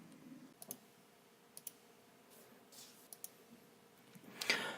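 Mouse clicks on an Apply button in FTA origin-management software (TOMS), a few faint, sharp clicks spaced apart in a quiet room.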